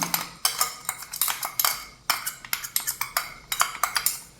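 Spice powder being stirred into raw tomato pickle, with quick, repeated clinks and scrapes of a metal spoon against a steel vessel in an uneven, brisk rhythm.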